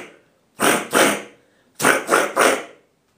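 Beatboxed K.I.M loud sound: two sharp, forceful bursts followed after a pause by three more, close and loud, a vocal imitation that comes across almost like barking.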